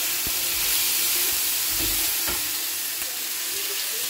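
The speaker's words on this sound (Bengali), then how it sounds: "আর এদিকে সবজি ভাজা হচ্ছে আমার" Vegetables for spaghetti fry in hot oil in a pan, giving a continuous broadband sizzle with occasional soft knocks from stirring, close and steady with no talking.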